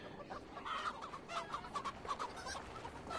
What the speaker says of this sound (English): And now being chased by chickens.